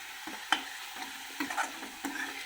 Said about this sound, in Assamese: এইখিনি ল' ফ্লেমত এতিয়া এনেকৈ ফ্ৰাই কৰি ল'ম